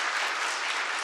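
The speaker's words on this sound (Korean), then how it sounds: "박수 좀 많이 쳐주십시오" Congregation applauding elders during a church ordination service marking a 76th founding anniversary, a brief, loud, full burst of steady clapping from many hands.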